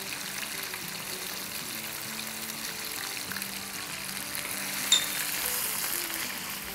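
Minced meat fries with garlic paste in a pan, giving a steady moderate sizzle with soft stirring scrapes and one brief sharp tap, and no voices.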